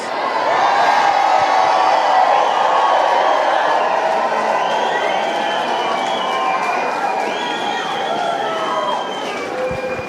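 Loud, sustained crowd noise at a packed town hall meeting with about 1400 frustrated citizens in Nevada County, a dense wash of cheering, whooping and applause from much of the room that holds steady for the whole stretch.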